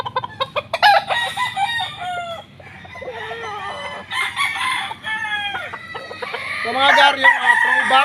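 Several gamefowl roosters, including a gold straight-comb bird, crow and cluck repeatedly at close range on a game farm, with someone talking briefly at the start.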